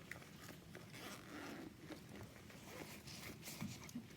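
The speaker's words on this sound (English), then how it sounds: "on the back wall, there's just a zipper" A zipper on the back wall of a Michael Kors Karlie medium leather satchel is drawn open in one steady pull, close and fairly quiet, with soft rustling and scraping around it.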